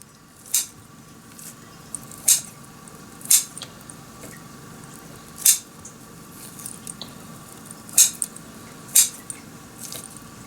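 A knife cuts a roll of biscuit dough into pieces in a pan, giving about seven sharp, close clicks spaced a second or two apart over a quiet background.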